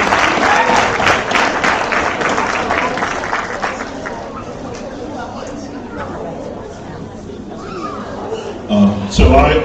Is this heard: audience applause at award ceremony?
yes